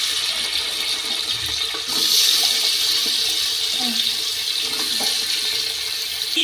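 Water is poured into a pot of carrots cooking in ghee for gajar halwa, a steady rushing splash that swells briefly midway, with light clinks underneath and no talking.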